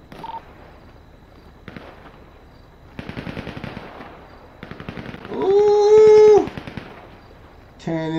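Gunfire in a GTA roleplay game, with bursts of rapid automatic shots several times, loud and close, alongside game effects and voices.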